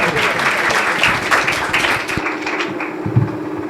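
Applause from a church congregation at a Sunday service welcoming a guest preacher, dense clapping filling the room for about two seconds before thinning into scattered claps and room noise.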